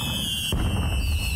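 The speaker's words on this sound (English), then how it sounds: "I forget about the fireworks" Fireworks burst in the EverQuest game, a sudden crackling pop followed by a dense low rumble and fizz over a steady high-pitched game tone, close and fairly loud.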